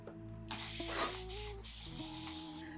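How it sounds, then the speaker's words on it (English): A hand-held spray bottle mists water onto curly hair in a few quick hissing bursts, close up, with a faint steady tone running underneath. "So I'm going to spray my hair."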